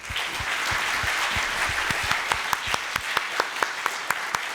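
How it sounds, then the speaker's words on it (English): Seminar audience applauds the speakers and presenters at a strategic trade management outreach event, a steady wash of many hands clapping that turns into sharper, evenly spaced individual claps toward the end. "I want to give our speakers and our presenters just an amazing round of applause."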